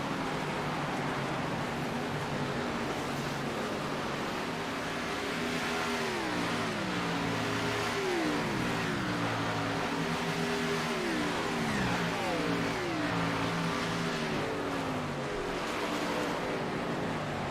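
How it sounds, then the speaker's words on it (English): Race truck engines circle a dirt track at Eldora during a Great Lakes Region event, a loud continuous drone with pitch sweeps rising and falling as trucks accelerate and pass, no talk. "watching Isaac Mock right now as he's going around, making his way around the track"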